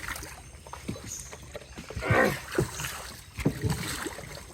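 Water sloshes and splashes steadily as a large fishing boat moves along in the Sundarbans, with a few louder surges of churning water.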